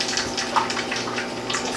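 Hot water pours steadily into a measuring cup, a close, continuous splashing gush with no talk.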